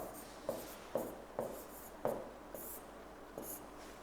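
Writing on a classroom board during a lesson on Uttar Pradesh industry, with a series of distinct taps and short strokes at an uneven rhythm, close and quiet, and nobody talking.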